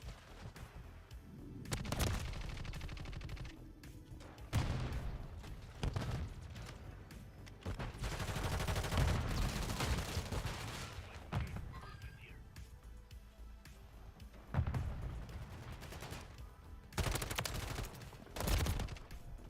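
Gunfire from a Call of Duty match, rapid bursts of automatic shots and heavier blasts in irregular volleys throughout, some close and loud, others quieter between clusters.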